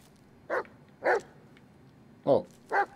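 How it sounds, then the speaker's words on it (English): A dog barks in the Blair Witch horror game, four separate sharp barks with uneven gaps between them. They come from a moderate distance over a quiet background, and no one speaks. "I can't see where the fucking dog is"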